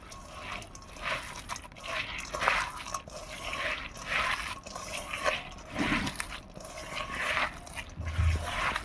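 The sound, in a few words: mixing bitter gourd and lentil chorchori by hand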